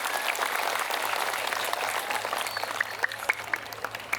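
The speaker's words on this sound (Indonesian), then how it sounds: "Tepuk tangan untuk teman-teman kita di Portugal." Applause from a crowd at an evening religious gathering, a sustained patter of many hands clapping at moderate loudness with a few sharper claps standing out toward the end, under a low steady hum.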